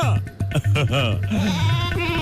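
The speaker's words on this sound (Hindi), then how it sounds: "ये बकरी मुझे मिली थी खेत में, पत्ते चरती" A goat bleats in a farm field where it was found grazing on leaves, a loud wavering cry heard over background music and voices.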